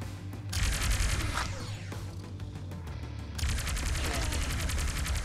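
Rapid shotgun blasts and gunfire in the robot shooter game Rogue Robots, loud bursts stacking into dense volleys for several seconds with a short lull midway, mixed with game effects.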